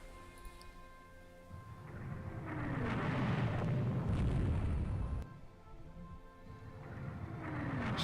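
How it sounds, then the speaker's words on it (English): A ship's magazine detonates in the naval strategy game Rule The Waves 2, a loud rolling boom that swells for a few seconds and then fades under a steady background of game ambience and music. "AMC magazine blows."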